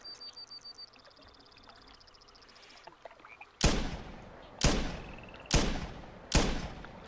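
Four loud, evenly spaced rifle shots ring out in theHunter 2017 while hunting red stags, each with a sharp crack and a trailing echo, after quieter ambient birdsong.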